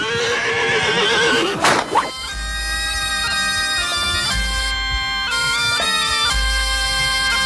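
Breton horse neighing loudly up close, a single long, shaky whinny that breaks off abruptly, followed by a calmer stretch with a sustained musical tone and low thuds.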